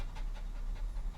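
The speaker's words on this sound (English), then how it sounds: "sorry about the terrified dog" A frightened dog pants in quick, steady breaths close to the mic, with a low crackling fire rumbling in the background during a tabletop roleplaying session.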